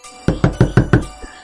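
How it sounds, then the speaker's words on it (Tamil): Five quick, loud knocks on a door in an even rhythm, close by, with a faint sixth tap after a short pause; no voices. "என்னடா மறுபடியும் கதவு தட்டுற சத்தம் கேக்குது?"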